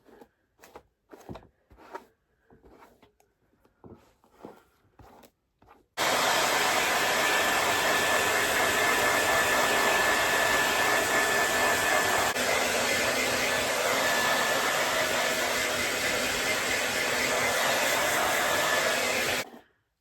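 A hair dryer blow-drying hair switches on after a few seconds of soft handling noises, then roars as a loud, steady, close whoosh for about fourteen seconds before cutting off.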